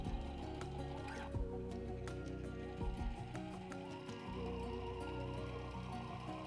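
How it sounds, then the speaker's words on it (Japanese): A sewing machine stitches white and red fabric together for a log cabin bag, running as a steady low mechanical whir with brief rattling changes, faint and continuous. "白い布と赤いの合わせて縫いますね。"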